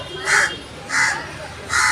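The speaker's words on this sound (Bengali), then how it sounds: "কাকটা কিরম ডাকা ডাকছে" A crow caws close by, three loud harsh calls spaced evenly about every two-thirds of a second, standing out alone over a quiet background.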